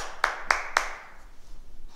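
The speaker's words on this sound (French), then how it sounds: "On s'applaudit." Three sharp, evenly spaced hand claps from a martial arts class applauding itself, close and crisp, followed by quiet room tone.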